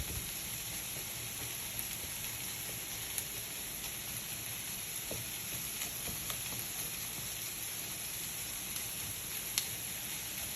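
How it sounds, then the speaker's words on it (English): Ground chili meat fries in a hot pan with a steady, dense crackling sizzle close by, and a few faint scrapes from a spatula come through. "It's going to need a little bit more crushing, it looks like, which we'll just do with our spatula here."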